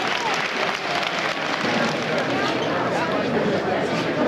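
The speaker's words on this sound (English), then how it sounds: "give yourselves a round of applause" A packed room of students gives a loud, sustained round of applause, dense clapping mixed with crowd hubbub throughout.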